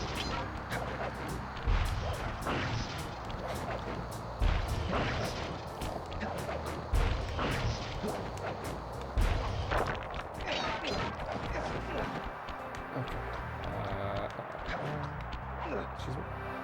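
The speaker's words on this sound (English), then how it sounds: "Just don't stand still while those fireworks go off." Fireworks go off again and again in the video game Sly Raccoon, sharp cracks and booms bursting at irregular intervals over a dense, busy game soundscape, with a voice talking throughout.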